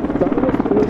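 Mi-24 military attack helicopter or Mi-171Š transport helicopter at an air show, its rotor producing a loud, steady, rapid chopping thump close by with no talk.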